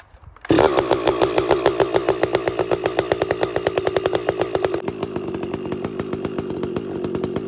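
A Stihl MS500i chainsaw fitted with a modified muffler fires up and runs close by, first with a rapid pulsing rasp and then settling into a steadier, louder drone, with no talk.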